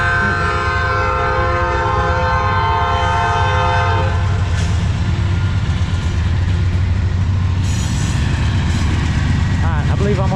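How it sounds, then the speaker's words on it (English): A train passes through Matewan, West Virginia, its horn blaring loud and sustained at first, then giving way to a heavy, continuous rumble and rattle of cars rolling close by, with a voice talking briefly over it. "the good news is the train's gone"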